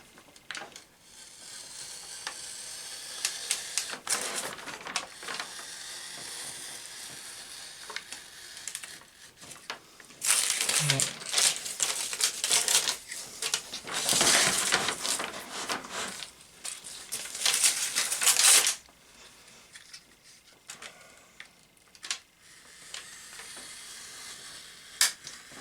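Paper backing on a picture frame is trimmed with a blade along taped edges, giving soft scratchy scraping strokes that come in bursts, louder in a long middle stretch, close up with no talk.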